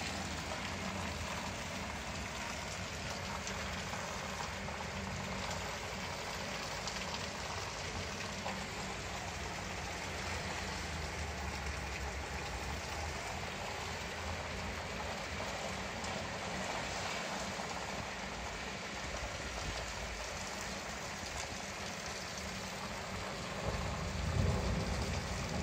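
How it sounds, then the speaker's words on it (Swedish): Heavy rain pours during a midnight thunderstorm in Chelyabinsk, a dense, steady roar of downpour that stays level for the whole span, with a brief louder swell near the end and no talking. "det börjar närma sig midnatt och åskan går och regnet vräker"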